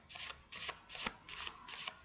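Oracle cards are shuffled close by in five quick, soft riffling bursts, each a papery flutter with a brief gap between.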